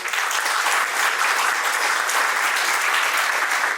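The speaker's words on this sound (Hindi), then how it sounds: "इसलिए मैं चाहूंगा कि आप सभी लोग भरी तालियों से इनका स्वागत करें" An audience at a cosmetics regulations event in Haryana gives a speaker a warm welcome, a thick, continuous wash of many hands clapping, loud and steady for nearly four seconds with no speech on top.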